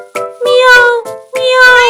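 Cartoon cat character meowing on a farm, three clear, loud, close meows with bright, tonal, rising and falling pitch, likely a human voice imitating a cat.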